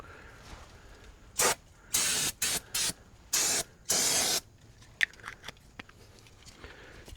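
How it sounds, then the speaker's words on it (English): Five short, loud hissing bursts of aerosol brake cleaner sprayed onto front brake parts of a 2002 Chevy Express 3500 van, each burst about half a second, followed by faint clicks and handling noises. "This is just O'Reilly's brake cleaner."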